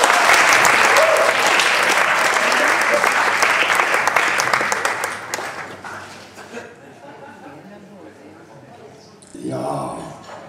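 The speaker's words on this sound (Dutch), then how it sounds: "Een applaus, Roger Lataster." A crowd breaks into loud, sustained applause that gradually fades out, followed by a brief burst of voices.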